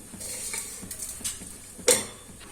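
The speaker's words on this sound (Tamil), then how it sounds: "சோம்பு, காஞ்ச மிளகாய், பட்டை, லவங்கம், கருவேப்பிலை, கொத்தமல்லி இதை லைட்டா வறுத்துக்கணும்" Pepper, cumin, fennel and dried chillies dry-roast in a pan for a country chicken curry, with faint scraping stirs, soft ticks of spices against metal and one sharper clink of a utensil on the pan.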